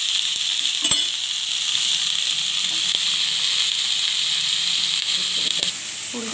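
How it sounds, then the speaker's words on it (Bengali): Cauliflower and potato frying in oil previously used for fish, a steady bright sizzle and hiss running throughout with occasional soft knocks of stirring. "ফুলকপি আলুটা ভেজে নিচ্ছি।"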